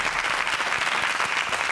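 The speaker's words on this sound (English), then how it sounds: "A warm round of applause" An audience breaks into steady, warm applause at a leadership debate show, dense clapping holding evenly throughout at close range with no talk over it.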